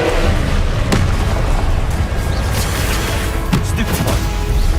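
Confringo blasting spell explosion from a Harry Potter video game: a dense, roaring wash of blast noise with a couple of sharper bursts rising out of it, loud and continuous throughout.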